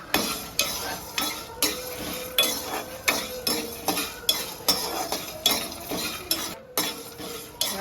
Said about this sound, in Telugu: జీలకర్ర జీడిపప్పు కూడా వేయించుకోవాలి.